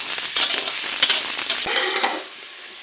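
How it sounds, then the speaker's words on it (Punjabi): Onions fry in a pan until golden brown, a loud close sizzle with scraping stirs and clatter that eases toward the end, with no voices. "ਪਿਆਜ਼ ਨੂੰ ਜਿਹੜਾ ਆ 골ਡਨ ਬ੍ਰਾਊਨ ਹੋਣ ਤੱਕ ਭੁੰਨ ਲੈਣਾ ਆ"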